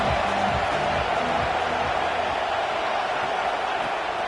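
Football stadium crowd roaring on a big third down, a dense, steady wash of cheering noise throughout with faint chant-like tones early on.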